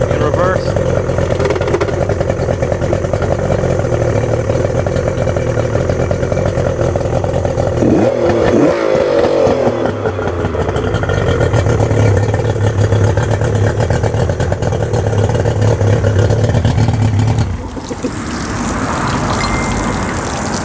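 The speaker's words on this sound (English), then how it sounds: "Cycle the engine through forward and reverse to make sure that your lower unit is working properly." A Yamaha 90hp outboard motor runs steadily as it is shifted through forward, neutral and reverse, a loud continuous engine drone with clunking shift changes and a sudden drop near the end.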